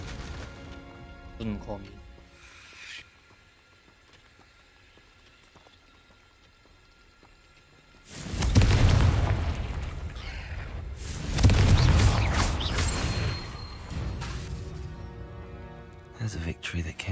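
Two heavy, booming Confringo fire-spell explosions go off in Hogwarts Legacy, each a loud burst lasting about two seconds a few seconds apart, with a voice talking before them and a quieter stretch in between.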